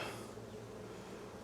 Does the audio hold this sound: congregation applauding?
no